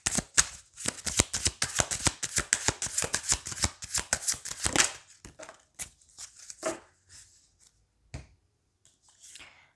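A deck of tarot cards is shuffled close by, making rapid crisp riffling flutters that slow to a few scattered slaps and taps, with no talking.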